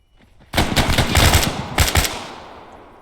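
Automatic gunfire in the video game ArmA 3, two loud bursts of rapid shots with a short gap between them, fading into a ringing tail.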